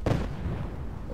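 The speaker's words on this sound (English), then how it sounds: "Oh, there still is more explosions." Explosions from landmines in the Fallout 4 video game give one deep booming blast that rumbles and fades over about a second.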